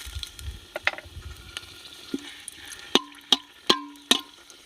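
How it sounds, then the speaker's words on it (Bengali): Bay leaf, dried red chilli and whole garam masala sputter in hot oil for a chicken tehari, a soft steady sizzle broken by a few sharp clicks and pops near the end, close and fairly quiet with no talk. "তেলের মধ্যে ফোড়ন দিয়ে দেব তেজপাতা, শুকনো লঙ্কা আর গোটা গরম মশলা"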